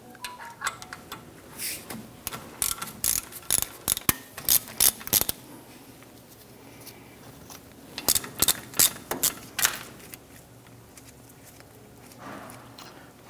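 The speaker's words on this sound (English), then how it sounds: "On the back side of our caliper, we want to go ahead, loosen and remove the two slide pin bolts" A hand ratchet loosens the 12mm slide pin bolts on a 1997-2006 Jeep Wrangler front brake caliper, with two quiet bursts of quick clicking separated by softer handling noises.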